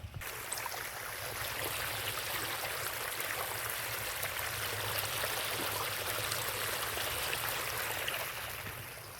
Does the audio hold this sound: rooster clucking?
no